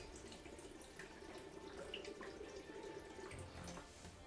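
Tap water runs steadily into a dog's water bowl, a continuous close hiss and splash that lasts throughout with no pauses.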